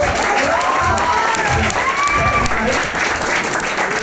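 An audience breaks into sustained clapping, thick and close, mixed with cheers and a few shouted voices rising over the applause.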